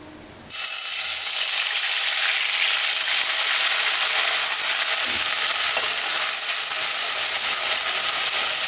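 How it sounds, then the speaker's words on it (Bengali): Onion paste dropped into hot oil bursts into a loud, steady sizzle that starts abruptly and continues unbroken. "একটু তেল দিয়ে দিচ্ছি পেঁয়াজ বাটাগুলো দিয়ে দিচ্ছি"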